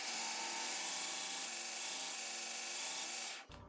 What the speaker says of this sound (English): So we're gonna grind this off now.